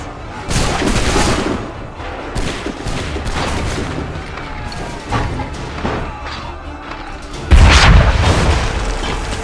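Loud cannon blasts in Assassin's Creed 3 Remastered on PS5, a series of booming shots and crashing impacts with a heavy, very loud report near the end.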